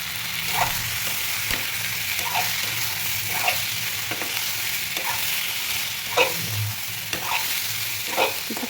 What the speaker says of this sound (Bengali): চিংড়ি মাছ দিয়ে একটু নাড়িয়ে চাড়িয়ে নেবো